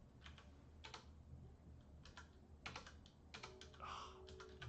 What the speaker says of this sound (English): I'm having so much trouble typing